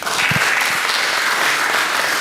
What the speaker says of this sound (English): A round of applause please to our panelists.